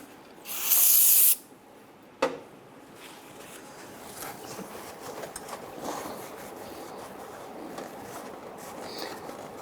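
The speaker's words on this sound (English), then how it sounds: "I'm going to go ahead and use spray solvent here" A brief, strong hiss of spray solvent near the start, aimed at the cleaned engine surface of a 1997–2006 Jeep Wrangler during a water pump replacement, followed by a short knock and then low, steady shop background.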